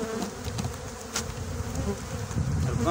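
Honeybees drone steadily at an open beehive, a dense, continuous buzz close by with faint handling sounds mixed in.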